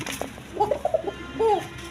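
Koka Basiraj pigeons in a loft give soft, close cooing calls in two short bursts, one trailing into a longer rolling coo, over a quiet background.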